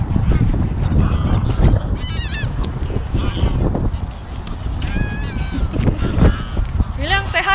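Geese honk repeatedly on Goose Beach in Scotland, loud nasal calls rising in short bursts from a flock nearby over constant outdoor rumble, with people talking throughout.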